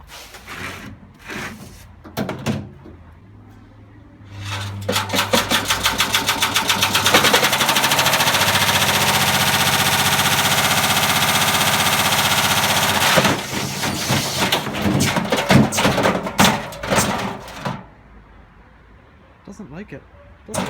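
A Haier washer dryer spins up with a brick inside, rising into a rapid, loud hammering clatter as the drum turns fast, then slowing to irregular heavy bangs and thumps, with talk before and after.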